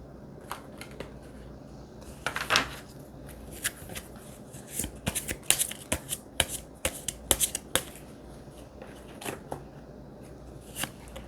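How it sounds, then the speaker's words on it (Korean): Tarot cards being shuffled and drawn, a run of crisp riffling and snapping card flicks coming in irregular bursts, close and fairly quiet over a soft room hiss, with nobody speaking. "추가 카드를 한번 뽑아 볼게요"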